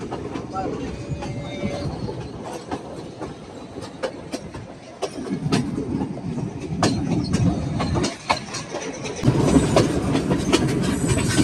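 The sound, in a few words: train running on rails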